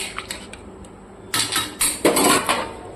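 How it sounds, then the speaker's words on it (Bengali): A metal lid is lifted off a pot of simmering curry, giving several sharp clanks and scraping rattles close by, following a quieter stretch of faint kitchen ticks. "ঢাকনা সরে এবার দেখে নিচ্ছি"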